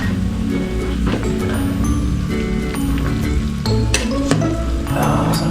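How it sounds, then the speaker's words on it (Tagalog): Pork bone sinigang broth boiling in a pot, a dense, continuous bubbling and crackling hiss, loud and close, with no talking. "kumukulo na siya"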